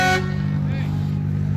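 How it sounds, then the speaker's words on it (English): A car horn at a toy car show at Pacific Raceways gives one short, loud honk right at the start, then cuts off, leaving a steady low engine rumble beneath. "Horn works."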